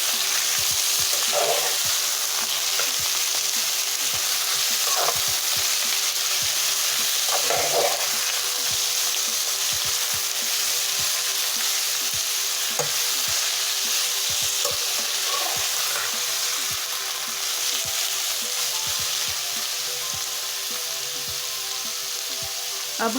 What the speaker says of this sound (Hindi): ऑयल हमारा गर्म हो चुका है। अब हम इसमें बॉईल किए हुए शलजम डाल लेंगे।